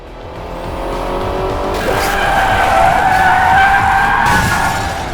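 In the Crash Time 5 video game, a car brakes hard with a loud, sustained tire skid and squeal that builds and holds for several seconds over engine noise.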